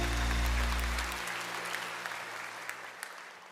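A congregation at a Sunday worship service in a Korean church applauds at moderate volume while a low sustained musical tone fades out early, leaving dense clapping that tapers off gradually.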